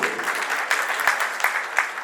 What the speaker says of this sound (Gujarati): આપણે તાળીઓના ગડગડાટથી વધાવીશું